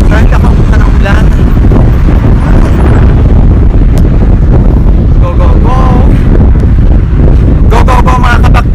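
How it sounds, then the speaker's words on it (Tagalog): Strong wind buffets the microphone continuously with a loud, rough roar, and faint voices come through now and then beneath it. "Lakas po ng hangin."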